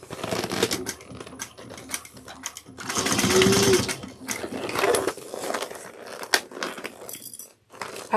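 A sewing machine stitches around a soft, squishy fabric bag in short, uneven bursts, close up, with clicking mechanical pauses between runs.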